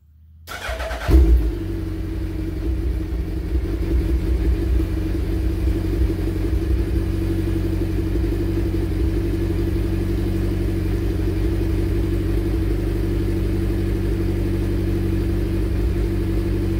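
A Suzuki Hayabusa motorcycle with the muffler baffle removed cold-starts after a brief crank, then settles into a steady, loud, rumbling idle that holds close and constant with no talk.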